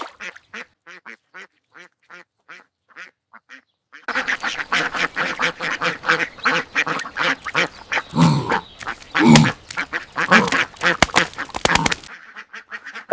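Ducks on a duck farm quack repeatedly, a sparse run of separate calls at first, then a loud, dense chorus of many birds close by before it cuts off.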